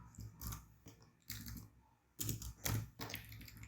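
Quiet bursts of keystrokes on a computer keyboard during MySQL database work, clustered clicking in several short irregular runs separated by brief pauses, with no voices.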